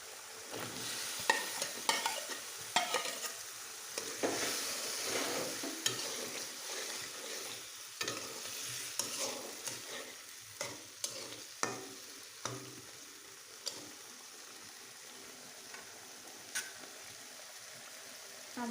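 Potatoes frying in a river fish curry, a continuous hiss of sizzling oil and liquid with the scrape and clatter of stirring against the pan, fairly close and steady.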